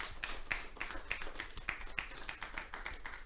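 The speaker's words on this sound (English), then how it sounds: "can you give him a round of applause, please?" Rhythmic audience applause at a formal talk, a steady series of sharp hand claps at an even pace, moderately loud with no talking over it.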